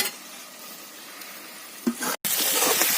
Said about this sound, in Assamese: তাৰ আগতে মই মাংসখিনি এবাৰ লৰাই লওঁ